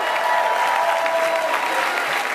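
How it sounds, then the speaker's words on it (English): A full room at a business presentation breaks into loud, sustained applause, a dense, even roar of clapping from many hands. "Look around and clap."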